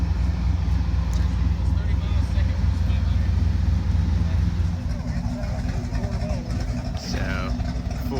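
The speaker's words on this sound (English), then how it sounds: "So they're doing a startup on this Porsche here." A Porsche at an outdoor car show starts up and settles into a steady, rumbling idle, with crowd chatter and talk over the engine.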